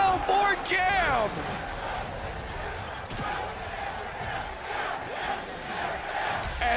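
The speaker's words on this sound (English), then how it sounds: "And the crowd erupts. Listen to New York cheer." A large arena crowd at the League of Legends Worlds 2022 esports event in New York roars and cheers continuously, loud and sustained, with a commentator's excited voice riding over it.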